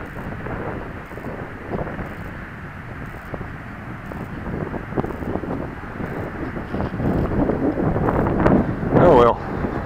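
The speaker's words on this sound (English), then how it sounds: "A little bit of wind today." Wind blows outdoors at an RC flying field, a steady low rumble of gusts buffeting the microphone, with someone talking and a brief whine near the end.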